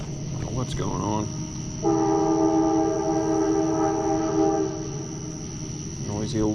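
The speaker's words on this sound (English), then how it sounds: "Noisy old train." A train passes at night near a river, sounding a loud sustained horn blast for a few seconds over a rolling rail rumble, with insect chirps and brief voices around it.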